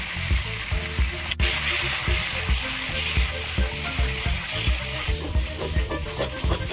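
A tomato gravy with a paste of cashew, poppy seed, melon seed and yogurt fries in a pan with a loud, steady sizzle, stirred in a regular rhythm of soft scraping strokes.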